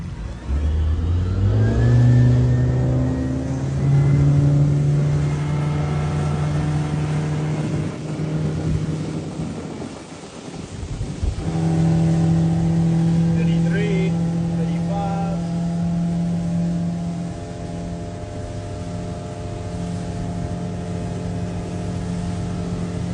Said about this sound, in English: we're going to show you what the acceleration is on one single engine